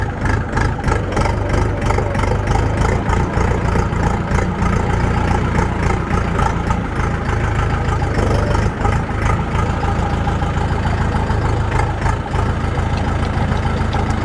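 A Kentavr 504F mini tractor's engine runs loud and close in a steady, rough throb while the machine reverses, with no voices over it.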